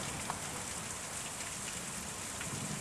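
Rain falls steadily in the video game Kentucky Route Zero, a constant hissing patter of drops on surfaces with no voices over it.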